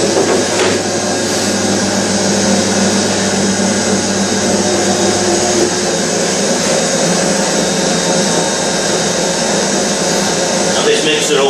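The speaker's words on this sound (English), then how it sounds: "I'll just fire a little bit out, because sometimes you get a bit left in the mincer there" An electric meat mincer in a butcher's shop runs with a loud, constant motor drone while pork sausage meat is processed, steady throughout with faint clatter near the end.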